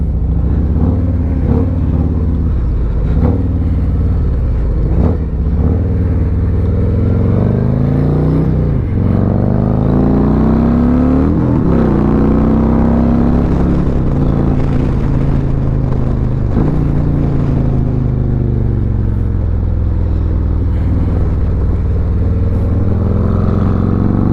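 A Harley-Davidson motorcycle with loud aftermarket exhaust pipes rides past, its deep rumbling engine steady and close throughout, with a few throttle swells and revs along the way.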